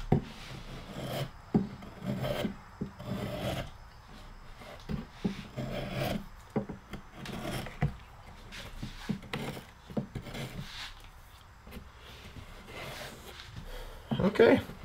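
Hand carving of a bark lighthouse with a gouge, a series of close, rough rasping scrapes as wood is shaved away, repeated in an uneven rhythm beneath someone talking throughout.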